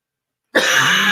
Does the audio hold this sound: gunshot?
no